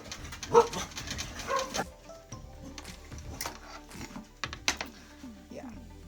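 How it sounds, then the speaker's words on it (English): Corgis bark in a couple of loud, sharp bursts in the first two seconds, then fall to softer, scattered yelps and whimpers with faint background noise. "Corgis are funny dogs. They will go off for anything."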